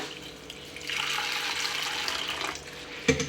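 Water runs and splashes into a container of sago pearls being rinsed for a couple of seconds, ending with a short knock or clunk; no one speaks.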